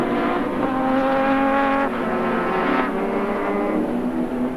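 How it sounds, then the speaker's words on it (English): Historic Group C Holden Commodore sports sedans, including a VK turbo car, race hard for the lead at Baskerville, a loud continuous engine roar with shifting pitch held throughout, close and dominant, with no talk. "Absolutely ferocious racing for the race lead up at the front."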